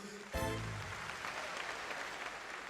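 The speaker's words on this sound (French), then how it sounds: "Est-ce que vous pouvez vous applaudir?" An audience at a New Year's greeting event bursts into applause after a short vocal shout, the clapping faint and distant as a soft, steady patter that continues for a couple of seconds.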